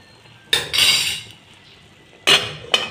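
A metal pot lid being set and shuffled onto a cooking pot of salmon soup with sweet potato leaves, a few sharp clanks and scrapes close by, no talking.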